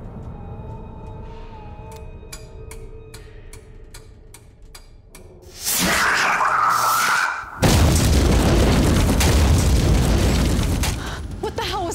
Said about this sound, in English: there was the sound of an explosion